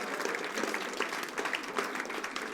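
A church congregation applauding together, dense continuous clapping from many hands filling the room at a steady moderate level.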